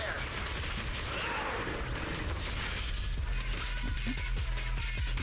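Gunfire in Zenless Zone Zero: steady rapid shots and mechanical clatter run throughout under a dense wash of battle noise and voices, fairly close and continuous.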